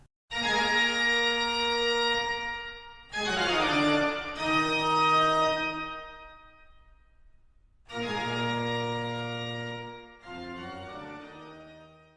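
Pipe organ plays a low bass line in Bach's style of separated, detached notes with short gaps between them, sustained harmonics ringing above, loud and alone without voices.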